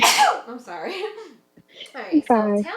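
One sharp, breathy sneeze bursts out at the very start, close and loud, then a person speaks briefly.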